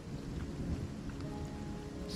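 Heavy monsoon downpour drenching the surroundings in a dense, steady roar, with deep thunder rumbling underneath throughout and a brighter splash of rain rising near the end.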